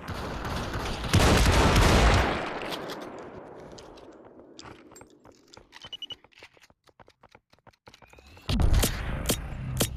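Zone grenades bursting in the VR shooter Population One, with heavy booming blasts at the start and end and a scatter of sharp crackling impacts in between, loud and close.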